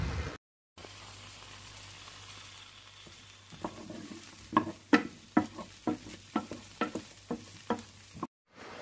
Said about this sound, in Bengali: 2 মিনিট পর ঢাকা খুলে নাড়াচাড়া করে নিচ্ছি।